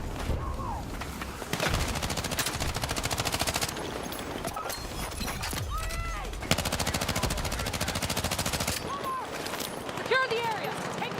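Dense, rapid gunfire from a Battlefield 6 match, bursts of automatic weapons and single shots crackling almost without pause, with shouted voices and battlefield commotion layered throughout.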